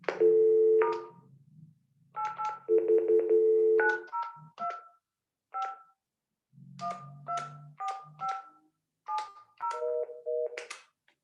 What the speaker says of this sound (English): Sorry, that's my phone's going off.